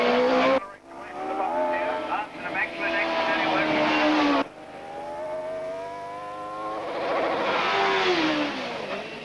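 A race car at the Shelsley Walsh hillclimb roars loud and close, its engine note rising through the gears with a sharp cut, then revving hard again, under a commentator's voice.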